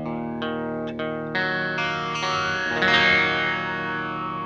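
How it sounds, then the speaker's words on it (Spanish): Electric guitar played through an EQD Interstellar Orbiter effects pedal, a series of sustained chords struck one after another with a swirling, filtered, distorted shimmer building toward the end, the dry guitar tone faintly audible underneath. "suena la guitarra con el efecto, pero también de fondo suena el sonido de la guitarra sola"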